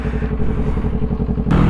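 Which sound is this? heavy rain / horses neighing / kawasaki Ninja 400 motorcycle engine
kawasaki Ninja 400 motorcycle engine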